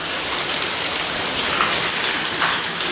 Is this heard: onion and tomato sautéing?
no